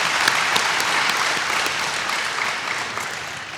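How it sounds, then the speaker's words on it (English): Dense, steady applause from a commencement audience fills the whole moment, loud and close, with no voices over it. "Could everyone please join me in a round of applause for all their hard work?"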